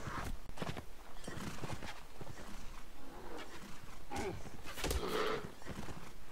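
Horses gallop in a battle in the video game Mount & Blade: Warband, a steady clatter of hooves under dense battle noise and clashing, with no clear talk.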